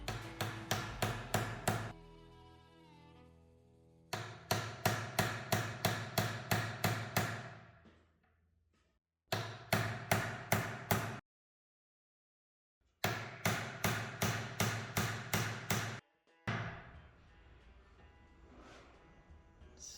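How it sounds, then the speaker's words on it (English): Roller wheels being hammered into a KingSong S22 electric unicycle suspension kit: fast, sharp metallic tapping in several rhythmic bursts separated by pauses, close and clear. "hammer it in."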